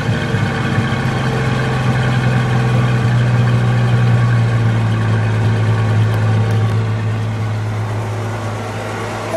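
A 1963 Ford Falcon Futura convertible's engine idles steadily with a low, even rumble that holds throughout, no voices over it.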